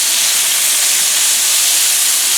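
Meat searing fast on a hot Blackstone griddle for goulash, a loud, continuous broadband hiss and sizzle, close up and steady with no talk.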